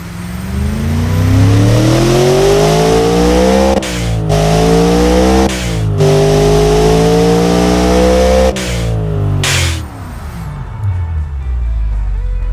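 A pickup truck engine in a video game revs hard and loud, its pitch climbing and dropping in several surges with brief cut-offs before winding down near the end.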